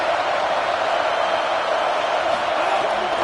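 A home crowd roars steadily at a football game, a dense, sustained wall of cheering that holds loud and even throughout without a break.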